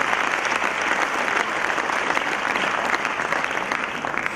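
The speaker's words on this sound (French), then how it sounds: "Donc applaudissez pour le ministre de la Culture." Steady, dense applause from an audience at a francophone awards ceremony, honoring a culture minister, a full continuous round of clapping with no speech over it.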